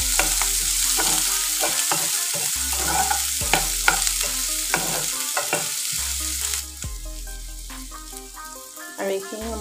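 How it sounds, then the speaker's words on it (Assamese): Chopped green chillies and onions fry in a pan for an Assamese fish curry, oil sizzling steadily while a spatula scrapes and clacks against the pan in repeated strokes. "অকণমান লৰাই লওঁ"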